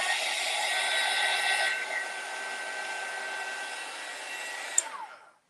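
A heat gun blows hot air across an embroidery hoop sign, a close, even whooshing drone that softens partway through and fades out after about five seconds.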